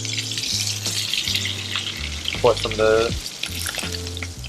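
Duck and onions frying in fat, a steady sizzle running throughout, with brief clatter of stirring and a short spoken phrase partway through, close and moderately loud.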